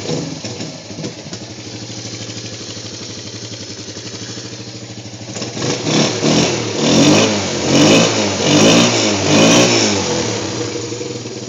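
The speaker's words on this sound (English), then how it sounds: "Here's the little Raptor 90. See if it starts in the first time." Small Yamaha Raptor 90 ATV engine runs at a steady idle, then revs up in repeated throttle blips, loud and close with no talk over it.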